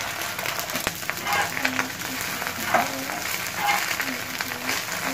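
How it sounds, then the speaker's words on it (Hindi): An egg patty for an anda burger sizzles and crackles steadily in a hot pan, with quiet scraping and stirring sounds over the frying. "अब हम अंडा फ्राई कर लेंगे"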